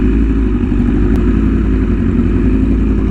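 BMW S1000RR motorcycle fitted with an SC Project or Arrow exhaust, heard close and loud as a steady, gritty engine roar under downshifting, continuous throughout with no speech.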